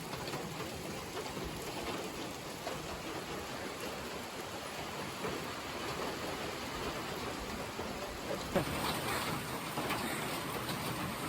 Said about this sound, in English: But that is raining.